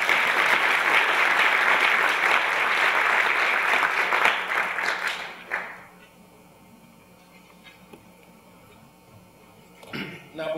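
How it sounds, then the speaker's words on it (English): Audience at a breakfast event applauding for about five seconds, loud and dense, then dying away to quiet room tone with a brief clatter near the end. "each and every one of you deserves a round of applause"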